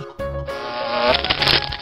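A toy plays a loud, steady buzzing bee sound, rising slightly in intensity and lasting just under two seconds, with no voices.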